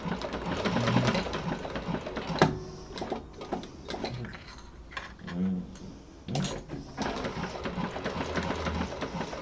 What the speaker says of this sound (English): Making sure you back stitch. Go all the way around that connector piece.